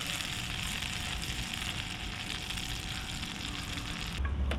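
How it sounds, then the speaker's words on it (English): Butter browning and sizzling in a pan over coals, ready for searing seasoned redfish; a dense, steady frying hiss that runs unbroken and fairly loud, with no voices. "So browning that butter, and you can see right now it's starting to turn nice brown caramel like."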